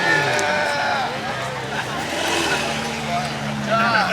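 Ferrari F8 engine at a cars-and-coffee meet, a loud, sustained turbocharged drone holding steady with shifting pitch and a few swelling rev sweeps, with crowd voices and chatter mixed underneath throughout.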